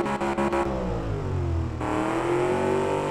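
An Audi RS4 engine in the car-building game Automation sputters through a few quick blips, then revs up hard in a rising, buzzing wail that falls back and climbs again.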